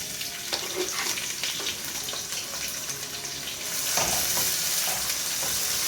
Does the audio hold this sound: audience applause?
no